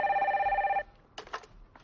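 A telephone gives one loud, steady electronic ring lasting under a second, then stops, and a brief faint voice follows.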